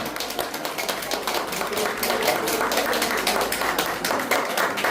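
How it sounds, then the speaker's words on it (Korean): Crowd applause for young supporters at a political rally for presidential candidate Kim Moon-soo, a dense, steady burst of many hands clapping close and loud throughout, with no talk over it. "큰 박수 부탁드리겠습니다"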